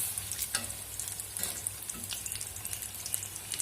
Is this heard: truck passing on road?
no